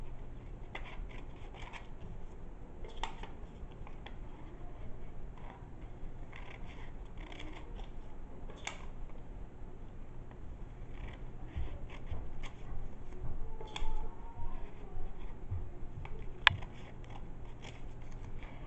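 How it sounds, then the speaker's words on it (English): Scissors snip triangles out of paper shapes, cutting corner to corner in a steady run of close, crisp clips and crunches that continues without pause. "you go corner to corner and cut out triangles"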